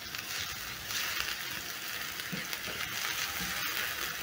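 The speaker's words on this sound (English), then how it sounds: "Stir in and let the garlic cook until fragrant." Four cloves of minced garlic sizzle in a pan with softened onion, a steady, close crackling hiss with faint stirring scrapes and no talk.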